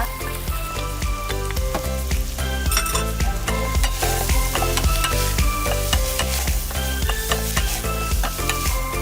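Pig lung and offal frying in a pan for Filipino papaitan, a close, continuous sizzle broken by frequent scraping and clinking as the pieces are stirred.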